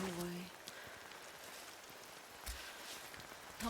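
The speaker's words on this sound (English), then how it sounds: "Rain, go away." Rain falls in the climbing video game Cairn, a soft steady patter behind the game's other sounds at low volume.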